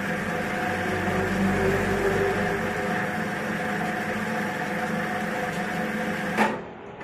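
An automatic coil winding machine winds a ceiling fan coil in reverse with a steady, continuous whirring hum, then cuts off with a short clunk as it stops on its own.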